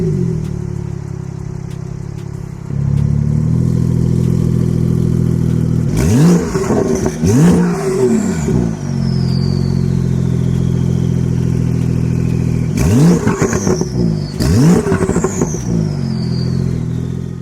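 A 2024 Porsche 911 Turbo S, with just over 600 miles on it, idles loudly, then gives two pairs of sharp revs that rise and fall quickly before settling back to a steady idle.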